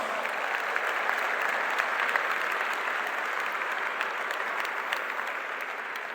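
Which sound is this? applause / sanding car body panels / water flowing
applause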